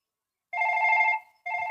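A Chhattisgarhi Nacha comedy play stages a phone call, and a telephone rings with a trilling electronic burst of about two-thirds of a second. A short gap follows, then a second burst begins, clear and alone, with no voices.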